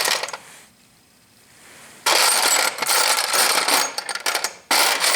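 Metal deep sockets from a toolbox of mixed American brands, including Craftsman, clink and rattle together in close handling bursts, separated by a short quiet pause.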